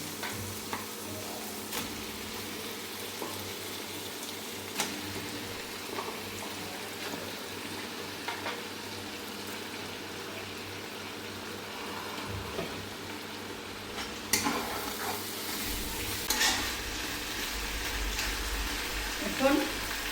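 Chicken pieces from a free-range country hen frying in a cooked spice paste with oil, giving a steady low sizzle with occasional stirring scrapes, close and continuous.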